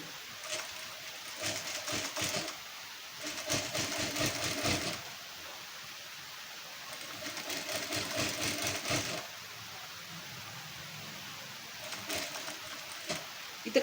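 A sewing machine stitching a V-neck blouse: a rapid mechanical whirring chatter in several bursts of a few seconds each, close up and moderately quiet, with pauses between runs.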